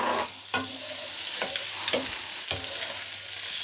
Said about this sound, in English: Now, pasta will be going into the pan. Give it a good stir.